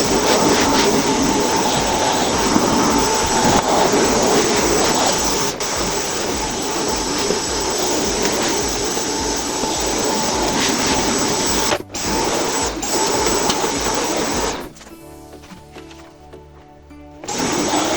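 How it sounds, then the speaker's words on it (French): A vacuum cleaner runs steadily while a bedroom is tidied, a loud continuous whine and roar with brief bumps and dropouts as it moves, then it cuts off near the end, leaving quieter room sound. "C'est bon, j'ai passé l'aspirateur."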